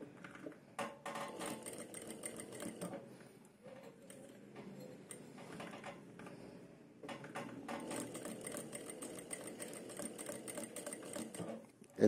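A sewing machine stitches a princess-cut blouse in two long runs of rapid rhythmic needle clatter, close and steady, separated by a short quieter pause with softer handling.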